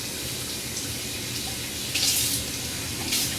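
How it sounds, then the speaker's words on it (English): A bathroom faucet runs hot water into a sink, a steady close hiss of flowing water with a couple of brighter splashes as something is soaked under the stream. "turn on the faucet, warm your face up"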